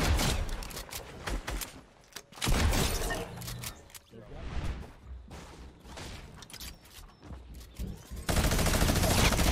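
Minigun firing in a video game, long loud whirring streams of rapid fire that come in several bursts, with a few quieter gaps between them and people talking in between.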